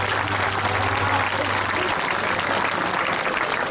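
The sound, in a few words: audience applause after a performance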